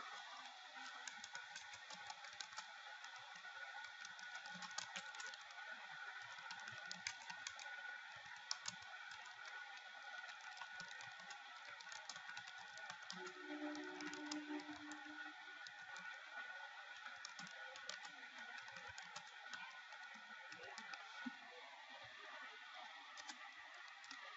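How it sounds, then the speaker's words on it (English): Steady keyboard typing on a computer in Microsoft Word, continuous fast clicking keys at a faint, low level with no talking. "Now I will type."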